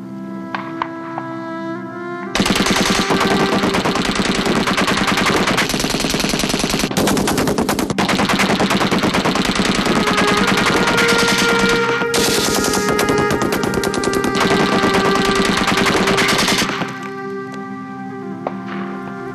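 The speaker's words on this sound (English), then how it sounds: "The machine gun could fire 600 rounds a minute." Sustained bursts of World War I era machine gun fire at a Gallipoli beachhead, loud and continuous for about fourteen seconds with brief gaps, preceded and followed by quieter background.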